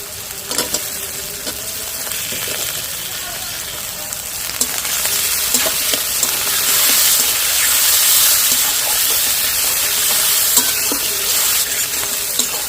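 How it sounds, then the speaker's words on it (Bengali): Onion and tomato fry together in a pan for Bengali ghugni, giving a steady close sizzle with occasional stirring scrapes and soft crackles throughout, no voices. "ভালো করে একটু ভেজে নেবো পেঁয়াজ আর টমেটো একসাথে"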